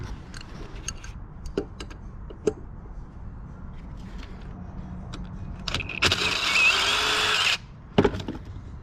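A power drill whirs briefly for about a second and a half amid scattered clicks, clunks and handling noises close by, while scrapped HVAC air conditioner units are taken apart.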